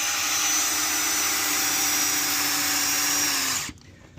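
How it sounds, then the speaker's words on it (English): A power drill drives a screw into a deck board during a deck renovation, a loud steady whine close by that slows and stops abruptly near the end. "So for now, we're just putting one screw in"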